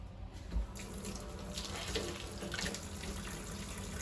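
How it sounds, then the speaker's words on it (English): A dish is rinsed one-handed under a running kitchen tap, water pouring steadily into the sink with a few soft splashes and knocks. "And then I just rinse it off."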